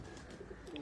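A Kajal pigeon, a champion Faisalabad bird, gives a few soft, low coos at some distance, faint against a steady background hum.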